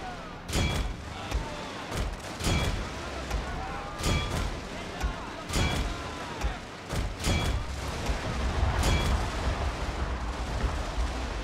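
Musket volleys in a Total War battle on the Russian campaign, sharp crackling gunfire bursts repeating roughly every second or two over a rumbling battlefield din, with a voice talking at times.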